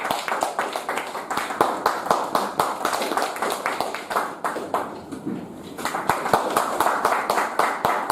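A group clapping hands as part of a meeting game, a run of sharp, roughly rhythmic claps from many people, loud and near, with a short pause midway before they resume.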